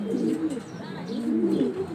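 A pair of Maxi Racer pigeons, a female and a male, coo close by in low, rolling, throaty phrases that swell and fade over two seconds, with no talking.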